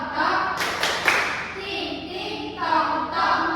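A primary school class plays a clapping game, with a few loud, sharp bursts of group clapping mixed with children's voices.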